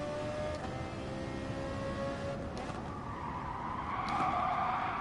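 A Ferrari race car in a racing video game at Autopolis brakes hard with a sustained tire squeal over steady engine noise, the squeal rising toward the end, with no talking.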